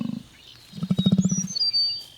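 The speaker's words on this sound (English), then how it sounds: "Yep, that's an emu." An emu gives a deep, resonant drumming call, a rapid run of low throbbing pulses swelling then fading over about a second, close and loud, with faint high chirps around it.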